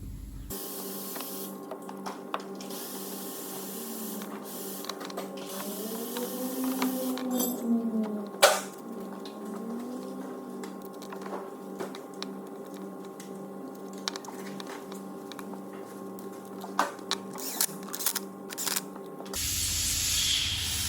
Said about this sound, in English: I've just ran the 3 bolts in really lightly with a gun